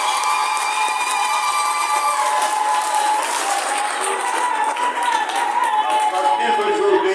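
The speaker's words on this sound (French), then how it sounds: "Applaudissez pour le frère de Dieu." Steady applause from a church congregation at a deacon ordination service, a dense continuous wash of clapping that fills the whole stretch, loud and close with no break.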